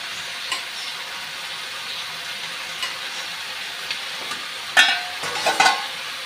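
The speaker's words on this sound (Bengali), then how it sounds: "পালং শাকগুলা দিয়ে দিচ্ছি।" Spinach leaves dropped into a hot pan and stirred for a Bengali vegetable and fish curry, a steady close sizzle of oil with scraping spatula strokes near the end.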